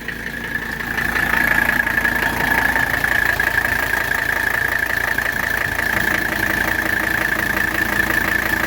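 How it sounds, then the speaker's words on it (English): A 1985 Mercedes 300SD diesel catches and settles into a steady idle, a loud continuous rumble with the characteristic rhythmic diesel clatter running evenly throughout after the brief start at the beginning. "It literally takes about half a spin of the engine to fire up."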